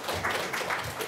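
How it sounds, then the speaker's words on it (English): Audience applause for a keynote speaker at a subprime auto financing conference, a brief, steady wash of clapping from a seated crowd in a hall. "Please give Mr. Doug Gansler a round of applause."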